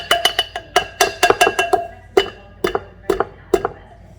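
Salsa butter beaten in a bowl, a rapid run of sharp, close knocks and slaps that slows into a few spaced strokes, with no voices.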